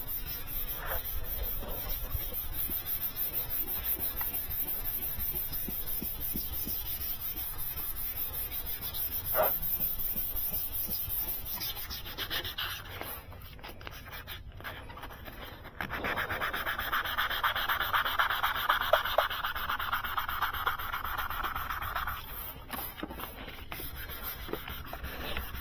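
Close, steady rubbing and scraping of 400 grit sandpaper across a 2020 Hyundai Tucson headlight lens, continuous strokes that briefly soften midway and then return louder and brighter, with no talking.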